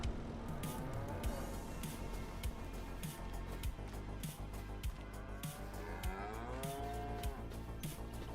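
Cattle mooing in Farming Simulator 25 at a cow pasture, several long drawn-out moos, one rising and falling near the end, over steady background game ambience.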